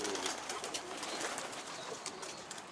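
Pigeons in a coop coo faintly amid a dense, hissy background, with soft repeated calls spread through the clip and no talking.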